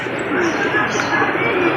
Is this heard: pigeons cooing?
yes